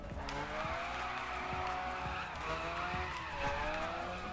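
A McLaren F1 slides and skids through a drift in the racing game The Crew, its tires squealing over a steady, loud engine roar that rises and falls in pitch throughout, with no talking.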